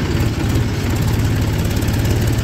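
Steady loud low rumble of a 575 tractor engine running at a constant pace, close and continuous with no talk.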